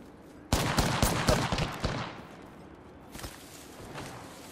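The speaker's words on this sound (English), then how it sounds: "Getting shot at." Rapid gunfire bursts in the video game Apex Legends, a loud volley of overlapping shots followed by scattered fainter shots further off, with no talking.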